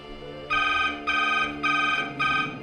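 A telephone rings in four evenly spaced electronic bursts, loud and close, over a steady background hum, with no voices.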